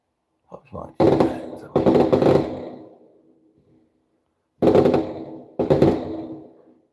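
New Year's Eve fireworks bursting outdoors, about five loud sharp bangs in two clusters, each followed by a rumbling, fading tail, with quiet gaps between.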